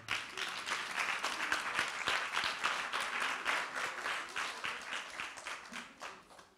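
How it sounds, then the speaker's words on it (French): Clapping from a church audience rings out steadily and fairly close, a brisk, continuous patter of many hands that swells and fades slightly over several seconds. "Vas-y, on peut l'applaudir"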